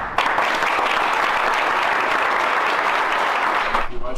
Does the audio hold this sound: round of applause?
yes